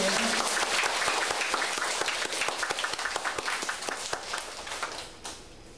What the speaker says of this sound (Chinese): 我们热烈掌声欢迎